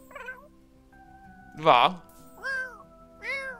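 A cat meows in The Sims 4: one short meow, then three louder, drawn-out meows at a steady pace, with a brief spoken voice near the start.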